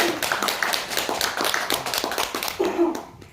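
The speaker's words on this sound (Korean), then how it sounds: "큰 박수로 맞아주시기 바랍니다." Audience applause welcoming a speaker to the stage at a talk, a dense run of claps lasting a few seconds at steady strength, with a few faint voices mixed in.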